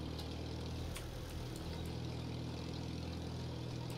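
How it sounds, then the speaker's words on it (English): A car engine running rough in the Titan Chaser video game gives a faint, steady low rumble and hum, with no voices over it. "this car doesn't sound good."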